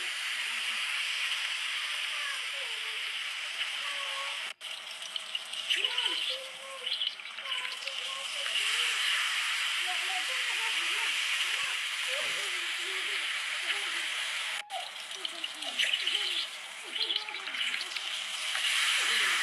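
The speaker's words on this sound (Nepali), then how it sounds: "तेलमा पकौडा राख्दै हुनुहुन्छ।" Pakoras fry in hot oil with a constant broad hiss, while people talk over it throughout.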